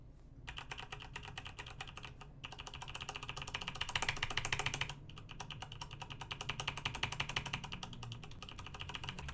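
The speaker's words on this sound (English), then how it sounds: "So this is the K95 without the O-ring." Rapid, steady typing on a Corsair K95 mechanical keyboard without O-rings, crisp clacking keystrokes in continuous bursts with a brief pause, heard close up and alone.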